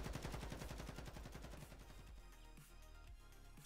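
Rapid automatic gunfire from the Call of Duty DMZ video game, dense bursts of loud shots for the first half, then sparser scattered shots under continuing game noise.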